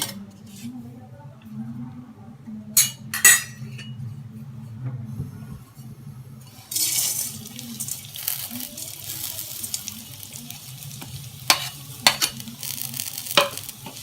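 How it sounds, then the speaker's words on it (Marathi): Sukat, small dried shrimp, roasts in a little oil in a pan over high heat with a soft sizzle. A spatula scrapes and clinks against the pan in short strokes now and then, and a voice murmurs faintly in the background. "अगोदर सुकट भाजून घेऊया थोडं थोडं तेल घालू"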